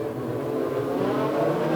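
A pack of race cars accelerates on a track after a caution period, a dense, steady engine roar close and loud, alone without voices.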